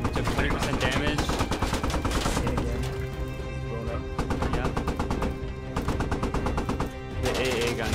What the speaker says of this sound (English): The AA gun is shooting at us. It's doing no damage.